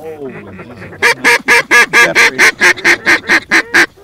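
A low flock of geese honking close overhead, a steady rhythmic run of loud, evenly spaced honks following softer calls at the start.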